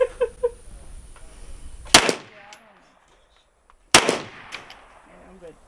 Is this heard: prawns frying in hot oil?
no